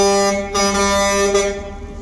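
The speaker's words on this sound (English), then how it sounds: "if it's not the car honking" A car horn sounds as one long, steady, loud honk lasting about two seconds. Its tone is harmonic and sustained, with a short dip partway through.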